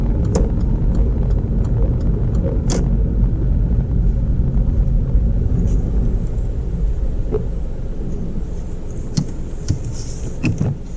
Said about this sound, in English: switch off the engine, please.